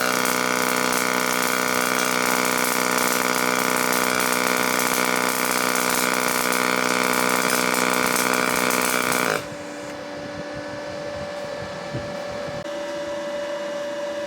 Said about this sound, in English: it's going to sound much different than a typical weld